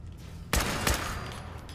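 Two loud, close gunshots ring out in the video game Fallout 4, the first sharp blast followed shortly by a second, each trailing into a brief echoing tail with no speech.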